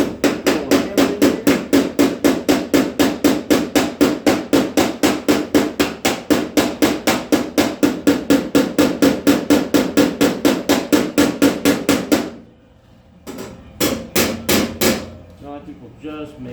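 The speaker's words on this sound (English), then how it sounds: "And if I hammer it out, how it should be, it should go line up" Hammer blows ring out on the crushed door panel of a 1951 Ford sedan, a fast, steady run of sharp metallic strikes that stops briefly before a few final hits.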